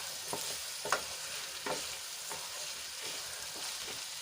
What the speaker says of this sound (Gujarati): ચારથી પાંચ મિનિટ માટે આપણે એને સંતળાવા દઈશું જેથી કરીને રીંગણા ચોળી અને ટમેટા આપણા થોડાક સોફ્ટ થઈ જાય